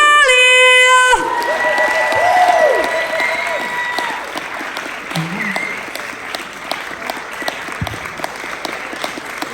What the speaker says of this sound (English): I want you to give a massive round of applause for Charlie!